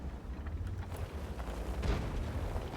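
A tank set on fire and exploding in the video game World of Tanks, a dull low boom and rumbling burst amid ongoing battle noise, with no talk.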